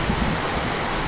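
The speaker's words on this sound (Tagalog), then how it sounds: "Ang lakas na ng ulan." Heavy rain pouring down in a dense, steady roar of broadband hiss with a few heavier low thuds, loud and close, with no voices.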